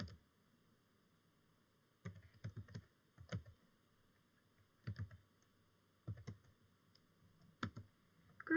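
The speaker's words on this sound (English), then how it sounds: "let's add the HTML element by typing out its opening and closing tags like so" Typing on a computer keyboard while entering HTML tags in a code editor: short bursts of quick, close key clicks separated by quiet pauses, with no talk.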